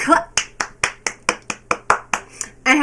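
A steady run of about ten crisp, close hand claps at an even, brisk pace, ending in a louder burst, with a voice briefly present.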